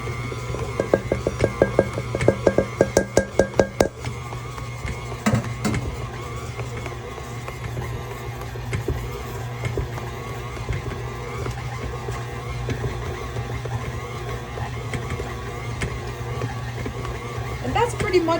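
An electric stand mixer beats butter cookie dough as flour is added slowly, keeping up a steady mechanical whir. Rapid rhythmic knocks come early on, and a person talks over the machine.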